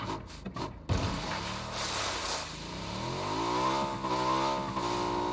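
Car engine in the video game PUBG driving close by, revving and shifting pitch in a steady mid-level drone that rises and falls over several seconds, preceded by a few brief choppy bursts.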